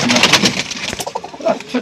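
A pigeon coos close by in Marrakesh, a few soft, throaty rolling calls repeating over light background noise.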